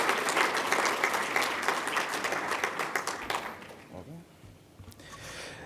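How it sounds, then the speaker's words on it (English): An audience at a student leadership awards ceremony gives a warm round of applause that rings out strongly, then tapers off and fades into quiet room sound near the end. "Can we get one more round of applause for Jen Brown today?"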